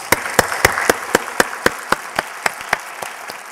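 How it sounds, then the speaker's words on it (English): Applause at a keynote presentation during a Tom Lea Month event in El Paso: crisp, evenly spaced claps ring out close and loud in a steady rhythm over a soft, diffuse background of clapping, thinning toward the end. "So let's give a huge round of applause for Adair Margot"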